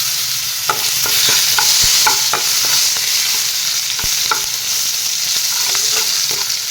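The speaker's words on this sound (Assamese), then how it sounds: "এতিয়া সেই তেলখিনিতে পিঁয়াজখিনি দিম।" Onions sizzle loudly in hot oil in a pan, a steady bright crackle with scattered clinks of a stirring spoon against the pan, close up and without speech.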